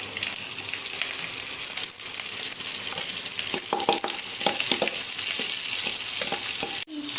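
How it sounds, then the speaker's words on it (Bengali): Rice frying and being stirred in a kadai with vegetables and cashews, a loud, continuous sizzle with scraping stir strokes throughout and a brief break near the end. "তো এবার হচ্ছে কি কড়াইতে চালগুলো দিয়ে দেবো"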